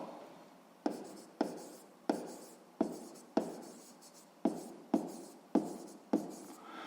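A pen writes a sixth-grade maths solution on paper, a run of regular scratchy strokes each opening with a sharp tap and trailing off, close and alone.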